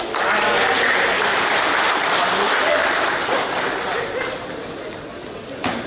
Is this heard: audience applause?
yes